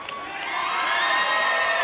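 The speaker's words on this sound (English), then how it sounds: "This crowd firmly behind Tough Enough Luke." A wrestling crowd at a live independent match cheers and whoops, a loud, swelling roar of many voices that builds and holds steady.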